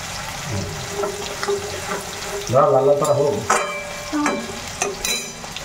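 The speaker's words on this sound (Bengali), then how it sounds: "তো এখন আমি চিংড়ি মাছগুলো একটু ভালো করে ভেজে নিচ্ছি।" Prawns frying in oil sizzle loudly and constantly, with stirring clinks and a brief burst of brighter, watery crackling and squeaky scraping in the middle.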